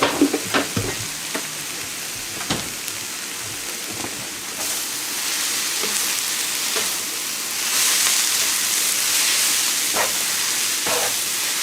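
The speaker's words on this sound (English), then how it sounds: "So now we're going to give it a quick stir fry and we'll take the noodles off." Noodles stir-fried in peanut oil in a hot pan sizzle loudly and continuously, with scraping stirs and clatters early on and the hiss swelling midway, no voices.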